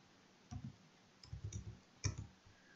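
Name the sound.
mouse double-clicking on the code window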